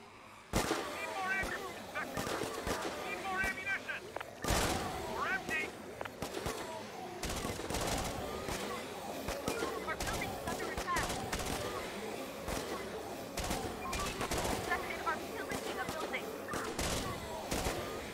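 Assault rifle fire in the zombie survival game Infection Free Zone, repeated sharp bursts and single shots crackling steadily over a background of game ambience, moderately loud and continuous.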